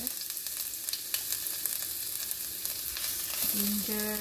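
Ginger garnish for noodle soup quick-frying in hot oil, giving a steady, close, bright sizzle throughout, with a few utensil knocks and a low tone near the end.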